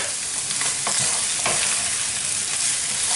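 Chorizo and green beans sauté in a hot pan, a loud continuous sizzle broken by several scraping strokes as the pieces are stirred and tossed.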